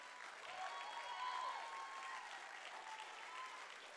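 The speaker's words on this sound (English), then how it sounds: "Clap your hands and shout like you're going." Church congregation applauding and cheering at a Palm Sunday service, a steady wash of many hands clapping with scattered shouts, sustained and fairly even throughout.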